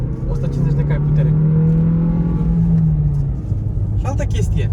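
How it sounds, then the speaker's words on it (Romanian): A Kia Sportage with a 150 hp engine and iMT manual gearbox revs up steadily for a few seconds and then eases off, its loud engine drone heard from inside the cabin with a person talking over it. "Ia să vedem cum merge motorul ăsta de 150 de cai putere."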